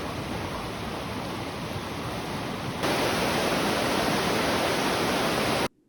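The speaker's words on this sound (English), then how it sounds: "the river running through the town" A river running through Fiskars village makes a steady, full rushing wash with no voices, growing a little louder partway through before it stops abruptly.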